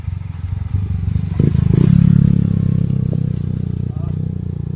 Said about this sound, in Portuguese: Gagabi mga motor, no? Delikado ni.